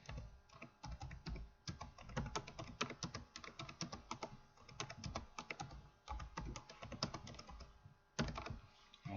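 Steady typing on a computer keyboard, rapid clustered keystrokes with brief pauses, close and fairly quiet, entering text into an input box in an AutoHotkey GUI program, with no talking.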